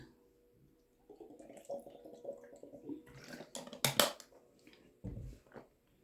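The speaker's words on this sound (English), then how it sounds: "let me drink some more water real quick" A person drinks water close by, with quiet sips and swallows followed by a sharper clink or knock of the cup, then a soft thud, and no one speaks.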